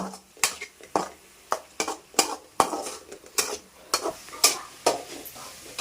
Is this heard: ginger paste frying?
yes